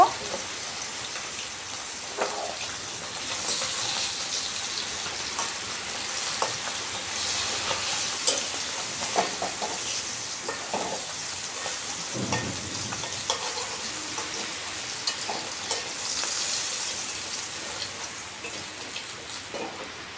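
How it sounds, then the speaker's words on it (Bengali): Tatkini fish pieces shallow-frying in a pan, a dense crackling sizzle like heavy rain with occasional sharper spatters and utensil knocks, steady and close throughout with no talk. "মাছগুলোকে লাল করে ভাজা হয়ে গেলেই এই মাছগুলোকেও তুলে নিব।"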